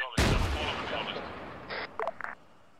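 A single loud, close gun blast fired at an enemy BRDM armored vehicle, with a long rumbling decay, followed by a few fainter short bursts.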